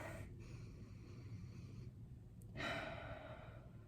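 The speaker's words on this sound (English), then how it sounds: "let's start by taking a deep breath" Close, quiet breathing comes in two distinct breaths, a slow draw followed by a longer airy breath near the end, over faint background noise.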